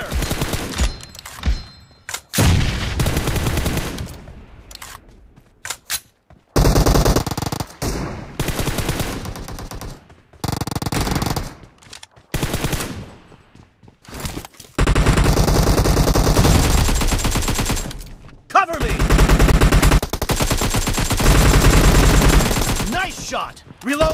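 Bursts of automatic gunfire from a PUBG Mobile match, loud and repeated in several long stretches with brief gaps between volleys.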